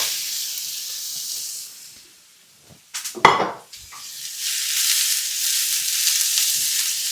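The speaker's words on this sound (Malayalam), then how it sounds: "നമ്മുടെ സവോള നന്നായിട്ട് വഴറ്റിയെടുക്കുക" Sliced onions with ginger, garlic and green chilli sautéing in a pan for a chicken liver roast, giving a steady hissing sizzle broken midway by a short, louder burst of clattering and crackling.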